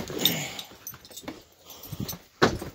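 A pet dog whimpers and yips in short, high, whiny bursts at close range indoors, with quiet gaps between the cries.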